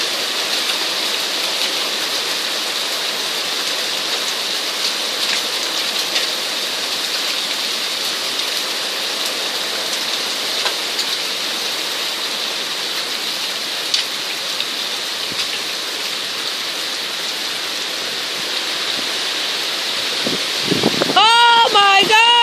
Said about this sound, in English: You can see some hail falling on the ground and bouncing off.